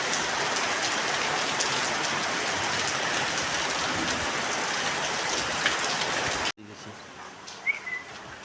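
Steady heavy rain pours on surfaces for several seconds, a dense broadband hiss, then cuts to a quieter scene with lighter rain patter and a bird chirping nearby.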